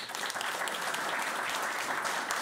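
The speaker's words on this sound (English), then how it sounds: "Can I have a big round of applause for these people?" An audience applauds after speakers share stories at an urban development event about rebuilding Ukraine, a steady dense wash of clapping from many hands that holds throughout at moderate level.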